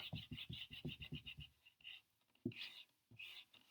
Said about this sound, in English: I just have to erase my board really fast